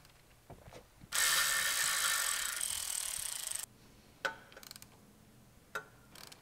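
Bolts on the engine mount of a Ram Promaster City being tightened with a ratchet during an engine swap: a sustained loud rapid clicking run of about two and a half seconds, followed by a few short sharp taps and clicks.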